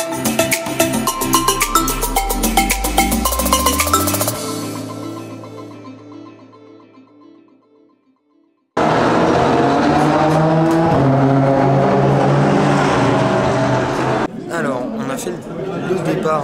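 Race cars pass the pit stand during a race: a rising engine whine sweeps up and fades, then after a short silence a loud, dense roar of engines and crowd noise fills the rest of the clip.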